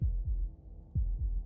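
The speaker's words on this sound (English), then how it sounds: "That was the sound of a heartbeat," Deep, booming heartbeat in the game Slay the Princess: two pairs of low thuds in a steady lub-dub rhythm, loud and close with nothing else over them.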